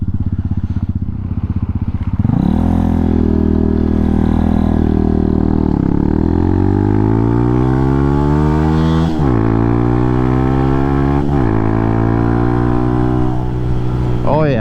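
A motorcycle engine revs hard and climbs through the gears, loud and close, its pitch rising in repeated sweeps that drop sharply at each shift before pulling up again.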